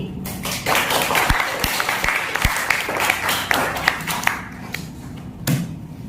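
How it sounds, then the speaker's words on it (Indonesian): Students in a classroom clap for classmates who presented, a lively burst of many hands with a few knocks and thumps mixed in, tapering near the end with a final loud clap. "Kita tepuk tangan dulu untuk perwakilan kelompok yang sudah maju presentasi."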